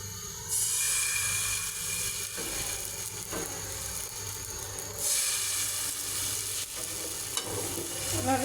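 Jali pitha batter frying in a hot pan gives a steady, close sizzle throughout, rising in bursts as more batter goes in, with no talking.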